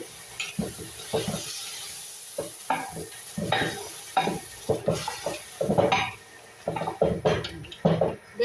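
Tomato goes into cooking dal, which sizzles while a spoon stirs it in quick, repeated scraping strokes. The strokes are close and rhythmic over a continuous hiss.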